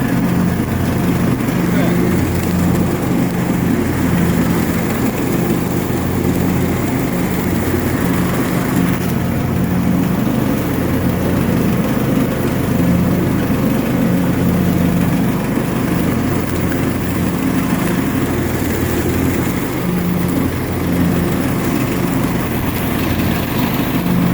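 Engine of a John Deere lawn mower running steadily while mowing, a loud continuous droning hum held close throughout, with small shifts in load and no break in the running.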